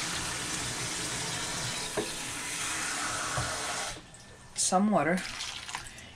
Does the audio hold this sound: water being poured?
yes